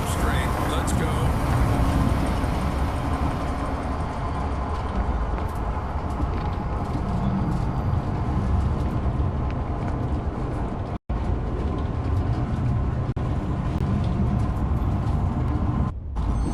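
A zoo train in the video game Zoochosis rolls along with a steady mechanical rumble and clatter, continuous and fairly loud throughout, with a brief dropout near the middle.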